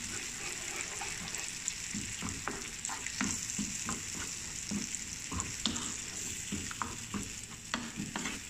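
An egg dish frying in a pan sizzles steadily while a utensil stirs and scrapes through it in irregular close taps, with no voices present.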